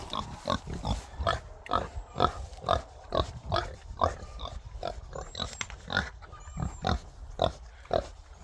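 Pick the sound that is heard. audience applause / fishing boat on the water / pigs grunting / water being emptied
pigs grunting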